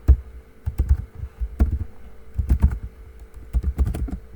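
Python code is typed on a computer keyboard in close, irregular bursts of sharp key clicks and thumps, with no voice.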